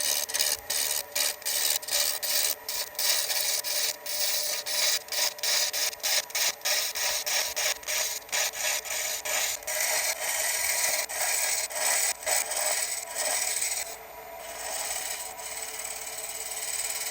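A steady scraping hiss of a lathe tool taking soft cuts in wood while turning a lantern ornament, with rapid rhythmic ticks early on, continuous and close, easing slightly near the end.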